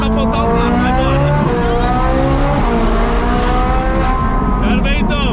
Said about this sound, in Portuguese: hoje vou levar o Boca pra andar de Ferrari.